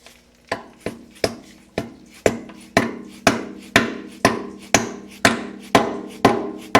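Steady hammer blows on a socket drive a part onto the top shaft of a John Deere 3010 tractor: about fifteen sharp metallic strikes at an even, quick rhythm, close and loud with short ringing decays, no talking.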